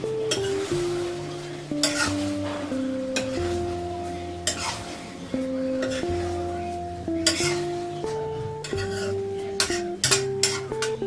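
Peas fry in a pan (kadai) with bottle gourd leaves, sizzling while a spoon stirs and scrapes the metal in irregular clinks, with gentle music playing throughout.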